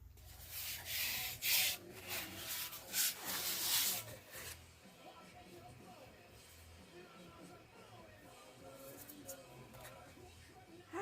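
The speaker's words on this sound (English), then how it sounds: "I finished sanding it, and I just wanted you to hear what it sounds like" Sandpaper rasps across a cardboard box coated with dried joint compound in several loud, dry strokes, then the scraping turns quieter and intermittent while a voice speaks.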